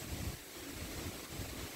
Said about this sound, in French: Puis là le vent se lève